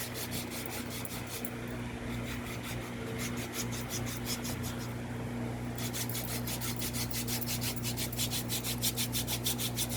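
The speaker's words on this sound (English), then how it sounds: "So I'm using my rasper and I'm gently filing" Steady rhythmic rasping as a foot file scrapes dead skin and callus from the sole of a foot during a pedicure, close and continuous with even back-and-forth strokes and no talking.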